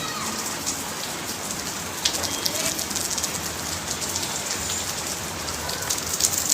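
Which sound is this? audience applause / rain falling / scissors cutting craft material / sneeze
rain falling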